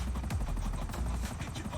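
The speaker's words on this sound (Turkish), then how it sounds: "Başka bir helikopter sesi." A helicopter flies nearby in the Grand RP game, its rotor a steady, dense thumping drone with no voices over it.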